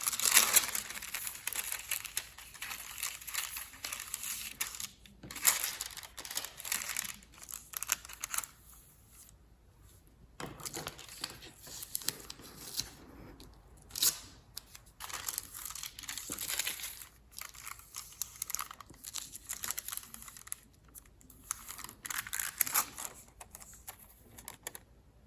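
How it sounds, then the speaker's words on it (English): Paper being taped down with carbon paper slipped underneath for a multiple-color relief print, a series of close crinkling, rustling and tearing sounds with short pauses. "I'm gonna tape it and put my carbon paper underneath"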